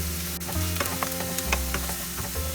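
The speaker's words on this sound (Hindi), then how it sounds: "हमें 3-4 मिनट फ्राई करना है, हाफ फ्राई करना है।" Steady sizzling of grated garlic frying in a pan for a soya keema paratha filling, with a few soft clicks and stirring scrapes over a constant hiss, close and moderately loud.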